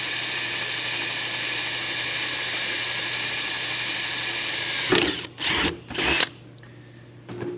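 A power drill with a 1/4 inch bit grinds steadily through three stacked layers of sheet metal for a rivet, a long continuous whine close up, then several short stop-start bursts as the bit breaks through; no voices.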